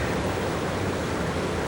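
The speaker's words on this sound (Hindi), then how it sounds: "यार ये झरना तो बहुत डरावना" A waterfall roars as a steady, dense rush of water with no break or variation, loud and enveloping throughout.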